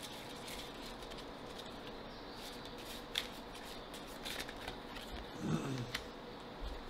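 Oracle cards are handled and laid out during a reading, with soft, faint shuffles and light card taps, including a small slap near the end, over a steady low background hiss.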